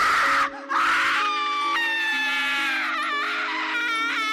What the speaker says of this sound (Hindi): सन्नाटे को चीरते हुए किसी की जोर जोर से चिल्लाने की आवाज़ आने लगी